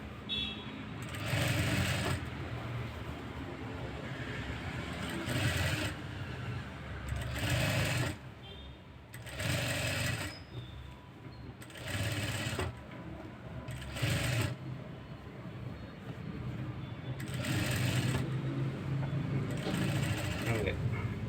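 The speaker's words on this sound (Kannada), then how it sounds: "ಇಷ್ಟಾದಮೇಲೆ ಮತ್ತೆ ದಪ್ಪ ಹೊಲಿಗೆ ಹಾಕಿ" A sewing machine stitches a piped blouse in repeated short bursts, close and steady, with someone speaking between and over the runs.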